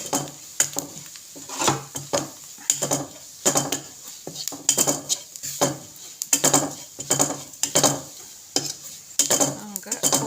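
Kottayam-style tuna fish curry is stirred in a pot with a utensil, making rhythmic scraping and clinking strokes against the metal over a faint background sizzle.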